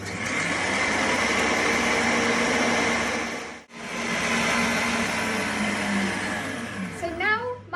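Electric mixer whisking eggs for pink meringues, a loud steady whir running almost continuously, cut by one brief pause midway, with a few short clinks near the end.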